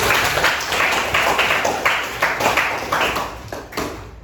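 A group claps together in a steady rhythmic beat, the applause sounding full and continuous for several seconds.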